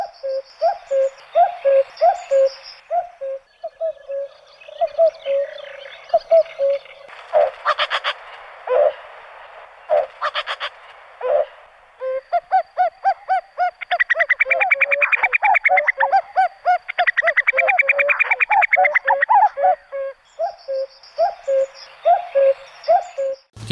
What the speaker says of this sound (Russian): обыкновенная кукушка.